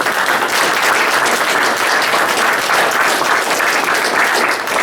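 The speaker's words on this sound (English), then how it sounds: "let's give Landon a round of applause" At a lecture series talk by Landon Huslig, the audience breaks into a strong, continuous round of applause, dense clapping at a high, even level from start to finish.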